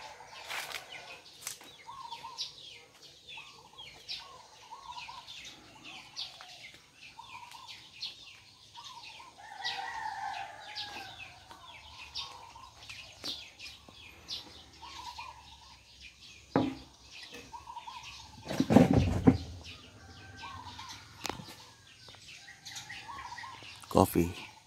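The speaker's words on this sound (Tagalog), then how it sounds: "Iingay ng mga ibon." Birds and chickens calling around a small home, with repeated chirps and clucks scattered through the scene, a louder burst near the end, and people talking faintly at times.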